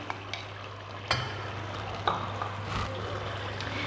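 Beef karahi with yogurt stir-fried over a high flame, heard as a low sizzle under a steady hum, with a few sharp knocks and scrapes of a spoon against the pan.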